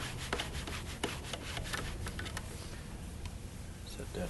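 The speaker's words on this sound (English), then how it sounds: "Just going to go ahead and back that screw out until the handle comes loose" A Phillips screwdriver backs a screw out of a control handle on a Jiffy 4G Lite, making close, steady rasping and scraping with small squeaky ticks throughout.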